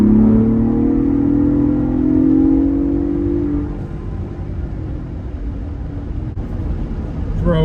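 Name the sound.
Ford Bronco Raptor engine revving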